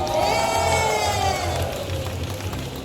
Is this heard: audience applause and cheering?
yes